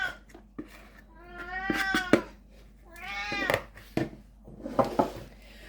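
A cat meows repeatedly at close range, drawn-out and insistent cries with short gaps between them, over faint background noise.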